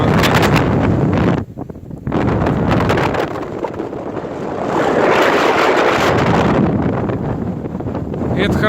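Strong wind of a spring snowstorm at a rural farmstead, roaring gusts buffeting the microphone loudly and continuously, with a brief lull partway through.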